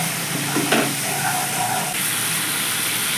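Spice masala with green chillies frying in oil over a low gas flame for a vegetarian chana dal, a dense continuous sizzle with a brief scrape of stirring early on, close and steady.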